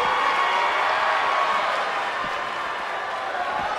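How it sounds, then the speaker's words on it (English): A dense, loud, continuous roar of cheering from a Tokyo crowd at a wrestling match fills the air, in a WWE 2K game, steady throughout with no distinct breaks. "if you want to know the strength of WWE here in Japan, just listen to this Tokyo crowd"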